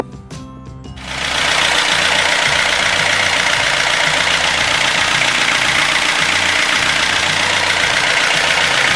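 A Perkins 4.108 diesel engine with a newly replaced starter cranks briefly then catches and runs, settling into a loud, steady close-up idle with a rhythmic knocking beat throughout.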